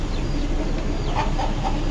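Young chicks clucking and peeping softly on a poultry farm before vaccination, with a few brief chirps over a steady background hum, no one speaking.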